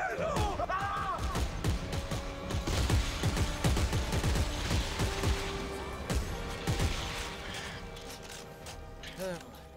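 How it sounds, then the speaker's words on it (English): Rapid gunfire in the Dead Space 3 video game as weapons are fired at a necromorph, bursts of mechanical clattering shots and impacts, loud and busy with game effects throughout. "You have to shoot its stuff off stuff being limbs and shit."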